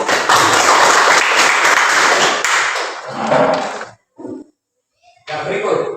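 Audience applause in a presentation setting, a dense burst of clapping that fades and stops, followed by a short gap and brief renewed clapping or movement.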